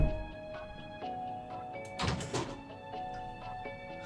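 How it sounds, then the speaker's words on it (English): A door thuds shut in the video game Ellingby House, a single muffled bang with a brief rumbling tail, set against a steady electronic hum with faint ticking. "Oh no, the door closed."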